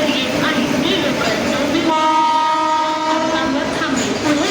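A fast local train bound for Asangaon rolls into platform 3 of a railway station, a steady loud rumble filling the clip while a public-address announcement plays over it.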